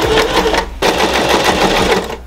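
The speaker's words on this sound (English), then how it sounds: "As you see, while you see me sewing it again." A sewing machine double-stitches a zipper onto a hoodie, running in a fast, steady mechanical chatter that cuts out briefly and then resumes close and loud.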